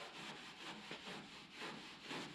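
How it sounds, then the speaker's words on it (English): Gray Scotch pad scuffing down primer on a Fox-body car panel, a steady broadband rubbing rasp in repeated back-and-forth strokes, close and fairly loud with no talking. "the primer seems to be scuffing down pretty good with this gray Scotch pad"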